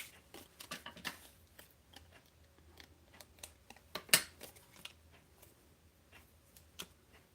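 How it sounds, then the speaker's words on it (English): Scissors snip through paper in a quick series of short crisp cuts, close and fairly quiet, bunched at first, then a loud snip midway and sparser cuts afterward, with no talking. "And we're going to go ahead and use scissors because it's a diagonal."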